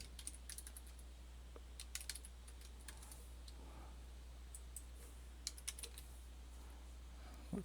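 Keys on a computer keyboard are typed in quick, light clusters of clicks over a steady low electrical hum, with no talk.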